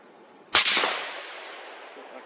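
A single sharp, loud rifle shot from a 7mm PRC Mossberg Patriot cracks outdoors, followed by a long rolling echo that fades slowly over two seconds.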